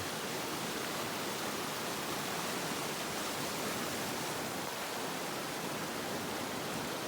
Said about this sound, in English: Isaac Creek.